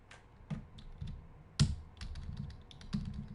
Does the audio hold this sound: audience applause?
no